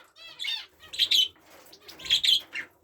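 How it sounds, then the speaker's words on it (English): Canary in a home aviary chirping near a nest: a series of bright, quick chirps and short trills in several bursts, close and clear, with no talk over them. "As you can see, that's the canary there."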